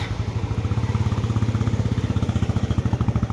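A Royal Enfield Bullet 350 motorcycle with a heavy aftermarket silencer idles close by with a deep, heavy, rhythmic thumping exhaust, each pulse loud and evenly spaced.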